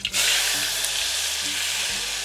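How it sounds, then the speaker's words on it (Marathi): Oil sizzles in an already very hot pan, a loud, steady hiss that fills the whole stretch without pause and with no talking. "तेल घेऊया. पातेलं ऑलरेडी खूप तापलं आहे."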